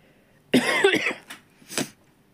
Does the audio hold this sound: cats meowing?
no